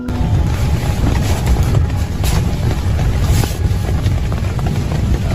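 Heavy rain falls outside a tent, a loud and constant roaring hiss that never lets up, with no voices.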